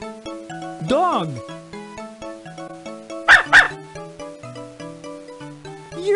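From the 2003 PC game Muppet Babies: Animals in Nature, a quick pair of loud cartoon dog barks rings out over a bouncy musical loop, preceded by a sliding whistle-like effect.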